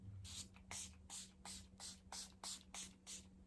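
Eight quick pump sprays of facial setting spray mist in a steady rhythm, close and crisp, with short pauses between bursts.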